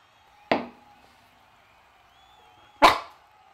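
A dog gives two sharp, loud single barks a couple of seconds apart, each short and punchy against a quiet indoor background.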